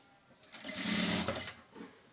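A sewing machine stitches a blouse in one short burst of about a second, whirring up and winding down close by against a quiet room.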